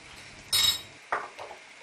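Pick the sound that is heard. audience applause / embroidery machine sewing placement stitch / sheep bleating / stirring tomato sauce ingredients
stirring tomato sauce ingredients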